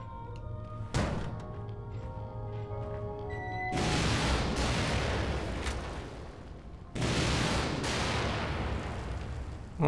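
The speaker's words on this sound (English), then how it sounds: "I'm gonna see what the heck's going on with this rocket launcher" Rocket launcher firing in The Evil Within DLC (The Executioner), a horror video game: a sharp blast about one second in, then two heavy, loud booming bursts with long rumbling roars, no speech.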